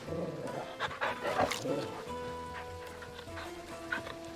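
Dog sounds from the video game Final Fantasy 16: short canine yips and whimpers mixed with game music and character voices in a busy, layered soundscape.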